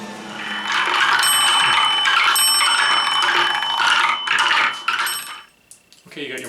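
Glass marbles rolling down a handmade wooden marble racetrack and striking a small metal bell, giving repeated bright rings over a steady clattering roll that fades near the end.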